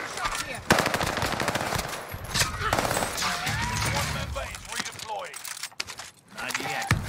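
The Armageddon gun fires rapidly in a video game, a fast chattering burst that runs almost throughout. Excited players talk over the gunfire.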